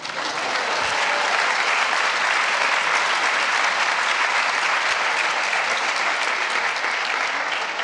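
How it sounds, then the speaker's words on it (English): A TEDMED live audience at Imperial College claps as a person comes on stage, loud, dense and sustained applause filling the whole stretch with no talk over it. "people will spontaneously clap."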